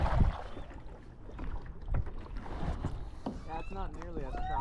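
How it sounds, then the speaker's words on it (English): Kayak paddling on a calm lake, Lake Pierre, with soft splashes and water movement close to the microphone, light wind, and a person talking over it. "Just gonna do a little paddling and get out to a spot on this gorgeous lake"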